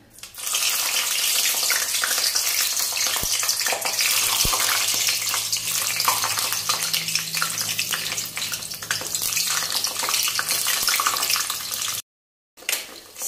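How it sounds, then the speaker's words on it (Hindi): White eggplant frying in hot mustard oil in a wok gives a loud, steady sizzle and crackle that runs continuously and cuts off briefly near the end. "ऑयल हमारा अच्छे से गर्म हो चुका है। अब हम डालेंगे इसमें बैंगन,"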